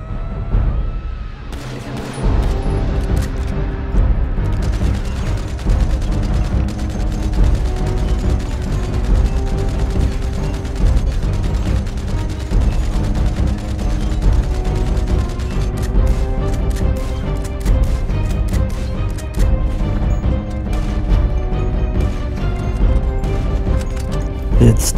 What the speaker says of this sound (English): Takes a minigun to destroy it.